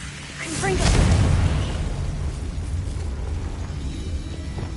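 A Confringo blasting spell in Hogwarts Legacy goes off as a loud, booming burst about a second in, then trails into a rumbling, crackling tail over steady game ambience.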